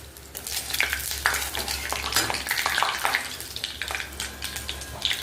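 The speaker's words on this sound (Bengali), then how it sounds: "প্রথমে কড়াইয়ে তেল দিয়েছি, তারপরে জিরে আর পাঁচ ফোড়ন আর গোটা লঙ্কা দিলাম।" Cumin, five-spice seeds and whole dried chillies crackle and sizzle in hot oil in a wok, a dense, loud popping hiss with steady stirring scrapes throughout, no voices.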